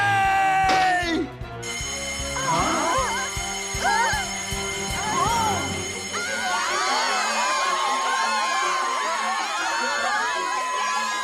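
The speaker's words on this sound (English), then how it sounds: "Nagasawa pushed the emergency button" An emergency alarm bell in a school science lab rings on and on, sounding steadily under loud children's shouting and crowd noise.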